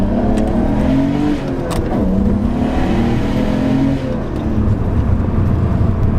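A Nissan Skyline GTR with a newly installed downpipe, clogged catalytic converter removed, revs hard while driving, its engine note climbing and falling in sustained loud accelerating pulls with a whooshing, whirring undertone.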